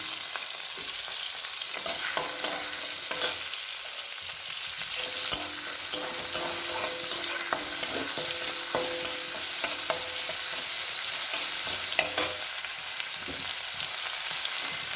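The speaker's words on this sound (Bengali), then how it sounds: "এবার এই রসুন থেঁতো করে রেখেছি, তেলের মধ্যে দিয়ে দেবো।" Crushed garlic sizzles steadily in hot oil left from frying prawns, with repeated stirring scrapes and small clinks of a utensil against the pan, a close continuous fry with no talking.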